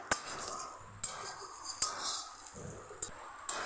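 A spatula clinks and scrapes against a pan while bitter gourd is stirred with grated coconut, sharp metallic taps roughly every second over a soft sizzle, close and fairly quiet.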